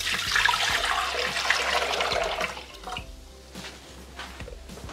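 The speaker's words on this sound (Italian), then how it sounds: "Iniziamo la ricetta mettendo all'interno del boccale l'acqua" Water pours steadily into a Thermomix TM6 mixing bowl for an Italian black venere rice salad, a close, rushing splash that eases off toward the end, with no talking.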